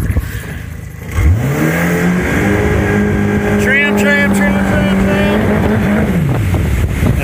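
A boat's outboard engine idles, then revs up smoothly and holds a steady higher pitch for several seconds before dropping back down, loud and close on the water.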